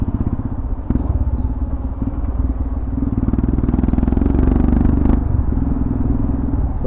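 A modified, tuned stage 2 Royal Enfield Himalayan 411 motorcycle runs close by with a loud, pulsing engine thump that swells steadily in intensity, with a couple of sharp clicks and rattles along the way.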